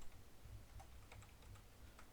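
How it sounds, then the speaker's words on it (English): Quiet, quick keystrokes on a computer keyboard, a short irregular run of soft clicks close to the microphone. "type something like this"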